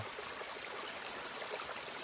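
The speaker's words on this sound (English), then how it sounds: "Pretty cool water feature going up the back of Killington." A stream on the back side of Killington mountain gives a steady, broad rushing and trickling wash, close by and unbroken, with no voices.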